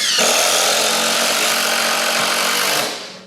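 DeWalt and Makita impact drivers drive a large fastener, a loud, dense, continuous hammering whir that holds steady for about three seconds, then cuts off abruptly and trails away.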